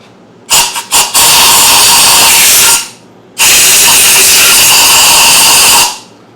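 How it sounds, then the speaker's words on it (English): Two long bursts of compressed air blast through a Porter Cable DA250B finish nailer during cleaning, loud and close, the first opening with a few quick sputtering pulses, then a brief pause before a second sustained hiss. "Let me just blow this area out here a little bit. Compressed air just to clean it out."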